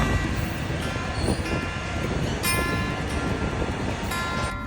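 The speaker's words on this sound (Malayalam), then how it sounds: "മറുവശത്തു കൂടി ഒരു ട്രെയിൻ പാസ് ചെയ്തു പോവുകയാണ്" A train passing on the adjacent track in India, heard from a stopped train: a loud, steady rumble with rhythmic clanking and faint metallic squeals running throughout.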